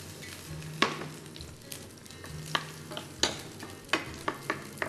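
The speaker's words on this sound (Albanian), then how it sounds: "janë kungujt që po i kaudisim, po i skuqim pjesën e tullt të tyre" Zucchini fry in a pan, a quiet steady sizzle broken by several sharp scrapes and clinks as a utensil stirs against the metal at irregular intervals.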